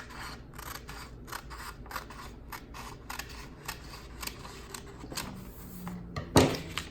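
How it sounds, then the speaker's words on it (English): Scissors cutting a sheet of paper along a pencil line, a rapid run of crisp snips in a steady rhythm, close and fairly quiet, ending with a louder clack as the blades close. "I'll take my scissors and cut right down that line"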